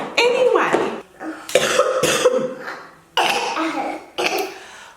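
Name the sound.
coughing fit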